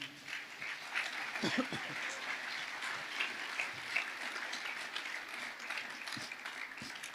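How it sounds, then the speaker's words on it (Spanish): A church congregation applauds during a worship service, a soft, distant patter of clapping that continues steadily while a voice speaks over it. "Dale un fuerte aplauso al Señor"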